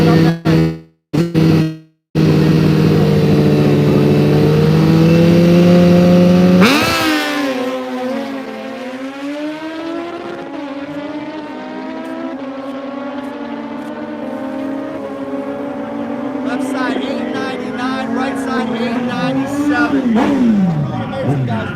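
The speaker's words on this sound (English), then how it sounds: "Looks like we've got the Superstock bikes coming up next" Superstock drag racing motorcycles rev hard at the strip, a loud droning engine note that cuts out abruptly before deep accelerating roars swell and overlap, with brief breaks and a harsh burst at the start.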